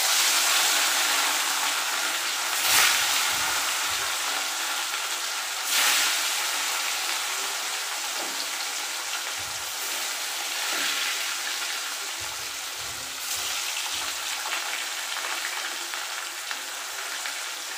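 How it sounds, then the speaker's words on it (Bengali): Fish pieces rubbed with salt and turmeric fry in hot oil, making a loud continuous close sizzle and crackle with a few brief louder bursts, heard alone for the full stretch without speech. "মাছগুলো ভাজতে দিয়ে দিলাম, ভাজা হোক।"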